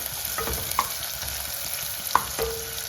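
Sliced onion sizzling in a pan on the stove for a simple vegetable stew, a steady frying hiss with a few sharp clinks of a utensil against the pan, close and alone with no talk.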